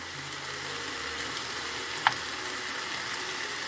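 Frozen food with homemade cream stews in a pan, making a steady, even sizzle and simmer throughout, with one sharp little clink partway through.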